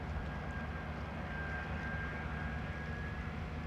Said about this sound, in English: ITA Airways, inbound from Milan